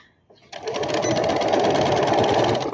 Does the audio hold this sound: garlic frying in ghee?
no